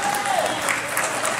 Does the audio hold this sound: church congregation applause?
yes